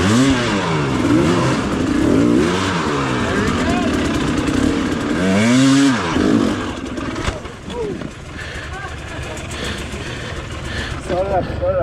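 Hard enduro dirt bikes climb over rocks, their engines revving and dropping in repeated surges that rise and fall, loud and close at first, then settling into rougher, lower idling and clatter with voices talking underneath.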